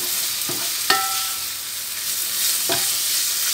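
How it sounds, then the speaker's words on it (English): Tokwa (firm tofu) frying in oil in a pan gives a steady, bright sizzle throughout, broken by a few sharp clinks and scrapes from stirring, with no one talking. "Okay, I will fry the tokwa first"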